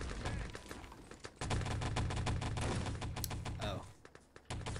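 A Panzer tank in a video game, part of a Finland vs Czech Republic Nationscup 2020 match, fires in a barrage of gunfire-like bursts and thuds under lively commentary.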